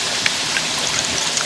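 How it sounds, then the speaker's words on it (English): A capped jar holding water and glitter is shaken, giving a bright, continuous sloshing patter with small splashy ticks throughout, close and fairly loud. "now I'm gonna put the cap back on and shake it to mix it"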